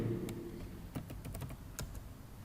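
Quiet, irregular clicks of fingers typing on a computer keyboard, a few scattered keystrokes with short pauses and a couple of sharper taps.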